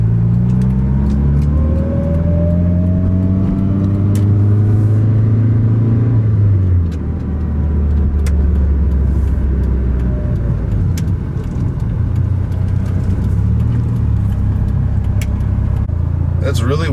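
A Mitsubishi car drives along with a loud, close engine rumble that climbs in pitch as it accelerates, then settles into a steady cruising drone with road noise, while people talk inside the car.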